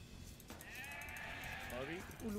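Sheep bleat in the video game Age of Empires 2, with a wavering, nasal call that rises clearly toward the end over busy game background noise.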